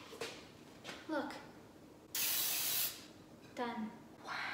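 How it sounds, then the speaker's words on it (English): A short hiss of cooking spray onto a pan lasting under a second, with people talking briefly before and after it. "You only need a small spray."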